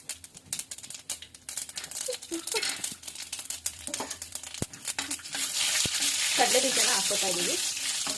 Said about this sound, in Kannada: ಕಡಲೆ ಬೀಜ ಒಂದು ಸ್ವಲ್ಪ ಗೋಲ್ಡನ್ ಬ್ರೌನ್ ಬರೋವರೆಗೂ ಫ್ರೈ ಮಾಡ್ಕೊಳ್ಳೋಣ